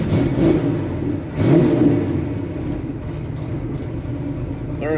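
A big block Nova with a 4-speed manual gearbox revs as the throttle opens, its engine note rising in two surges over a steady close, loud rumble.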